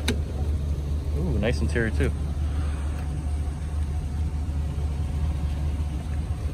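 A Lexus CT200H hybrid sits idling with a steady low hum under a voice remarking on the car, with no sharp start-up burst evident.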